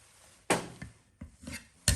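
A knife slices through ginger on a cutting board, giving four sharp, separate chops spaced irregularly against a quiet background.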